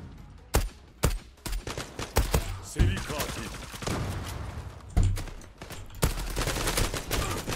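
Bursts of in-game gunfire in the Zula online shooter, with sharp single shots and rapid volleys spread across the stretch, loud and close, with dense clattering between shots.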